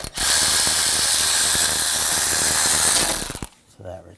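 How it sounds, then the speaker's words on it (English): A ratchet fitted with a T25 socket works a bolt loose on a 2001-2009 Volvo S60 2.5L, giving a loud, dense run of rapid clicks for about three seconds that stops abruptly, followed by a brief quiet pause. "right here, there's a bolt. I'm going to use a T25 socket."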